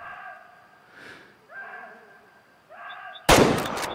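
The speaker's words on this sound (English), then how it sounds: "We're gonna use the 30-30, the grandpa's rifle, and we're gonna aim right behind the shoulder." A 30-30 rifle fires a single loud, sharp shot at a roe deer in the Way of the Hunter hunting game, breaking abruptly out of quiet ambient tones with a short ringing tail.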